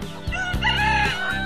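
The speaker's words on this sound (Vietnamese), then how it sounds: "Tiếng gáy của anh to vang đã đánh thức cô chủ dậy sớm." A cartoon rooster crows loudly and at length in an animated folk-tale scene, with layered music or effects running beneath the call.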